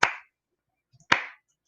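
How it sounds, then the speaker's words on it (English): Two sharp, isolated hand claps land about a second apart, close and crisp with silence between them in a deliberate slow-clap rhythm. "slow clap. Slow clap."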